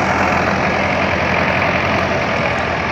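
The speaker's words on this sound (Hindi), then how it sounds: "ट्रैक्टर हो चुका है स्टार्ट, तो हम अपना काम करते हैं शुरू।" A tractor engine runs steadily just after starting, a loud, close, continuous rumble with no break or change in pitch.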